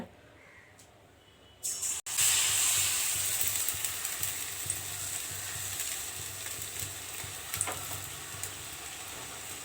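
Curry leaf pakoras dropped into hot oil, with a quiet start, then a sudden, loud, steady sizzle and bubbling frying that continues throughout.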